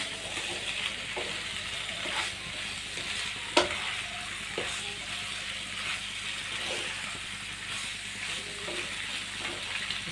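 Macaroni stirred in an oiled pan, a steady soft sizzle running under scattered scrapes and clinks of the spoon against the metal, with one sharper knock near the middle.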